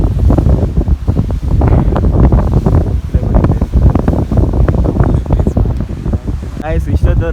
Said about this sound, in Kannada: ನೋಡಿ ಗಾಯ್ಸ್ ವಾಟರ್ ನೋಡಿ, ಅಲೆ ಅಲೆ ಬಡಿತಾ ಇದೆ.